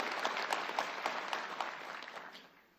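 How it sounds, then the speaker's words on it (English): Crowd at a police academy class graduation claps for Mayor Warren, a fairly soft burst of applause that tapers away over about three seconds. "Can we just give Mayor Warren another round of applause?"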